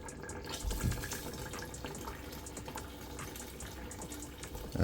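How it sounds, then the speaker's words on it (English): Hot water from a kettle pouring into a cooking pot for a seafood boil, a steady continuous splashing flow that runs throughout at moderate level, with no talk over it. "that's hot water from the kettle I'm adding inside now"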